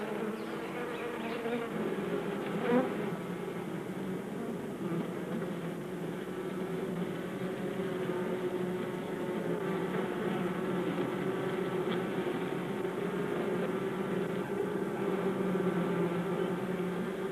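Honeybees buzz at the entrance of their hive, a dense, steady hum of many wings that holds at close range for the whole stretch, with no voices.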